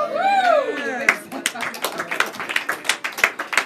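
Hands clapping in a church sermon, a run of sharp claps in a loose rhythm following a rising voice at the start, fairly close and moderately loud.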